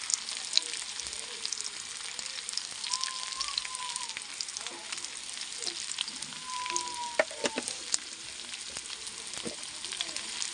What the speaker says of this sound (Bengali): আর একটু আমি ভালো করে ভেজে নেবো আলুগুলোকে।